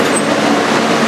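A 2008 Alstom R-160A subway car runs as an F express on the IND Queens Boulevard line, with a loud, steady, broad roar of wheels and motors heard from inside the car.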